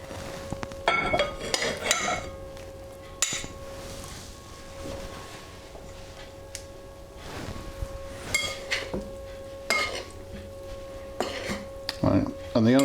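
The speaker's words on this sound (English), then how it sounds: "So our first job is to coat the beef in the seasoned flour." Beef pieces are tossed in seasoned flour in a dish, producing clattering knocks and clinks of utensils against crockery in irregular bursts, with a person talking throughout.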